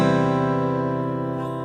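A strummed acoustic guitar chord rings out loud and full, with a deep low bass note under it, sustaining and slowly fading.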